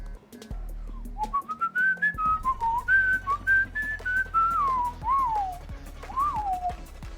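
A person whistles the Frasier theme song close up, a clear, wavering melody of linked notes with short breaths between phrases, no talking.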